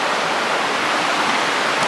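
A mountain stream flows beside a forest trail toward the Szklarka waterfall, a steady, dense rush of water that fills the whole stretch without pause, close and fairly loud.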